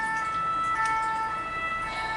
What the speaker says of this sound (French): on laisse passer l'ambulance